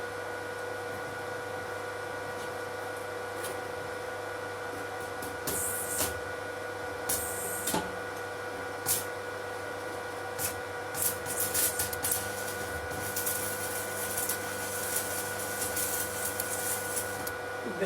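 A welding machine's electric cooling fan whirs continuously with a constant hum, joined by scattered faint clicks and rustles partway through.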